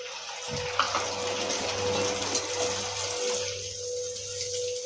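A cup of water pours steadily into a pan of Hyderabadi masala chicken with garam masala, a continuous close splashing gush that runs unbroken through the clip, with no talking.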